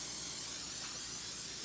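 Cooking spray hissing from a can into a baking pan, a steady close airy spray lasting the whole short moment.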